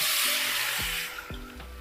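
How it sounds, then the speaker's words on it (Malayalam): Tamarind water pours into a curry pan with a rushing, hissing splash that fades after about a second, followed by a few soft clinks. "അതിൽ പുളിവെള്ളം ചേർക്കാം."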